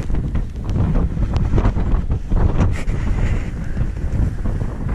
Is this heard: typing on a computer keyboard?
no